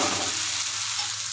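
Spices with turmeric and salt fry for dal in a pan, giving a brief, steady close sizzle with no voices.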